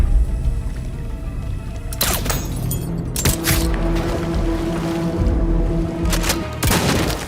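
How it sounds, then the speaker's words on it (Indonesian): Gunfire erupts during a film shootout between two military forces, several loud broadband bursts and booms cutting through a continuous rumbling battle backdrop, with sustained tones in between. "membuat terjadinya aksi baku tembak antara kedua pasukan tersebut"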